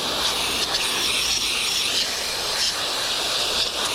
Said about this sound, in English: You want to just work the filter downward with some pressure on a hose.